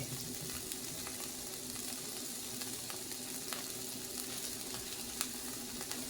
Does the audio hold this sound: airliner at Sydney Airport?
no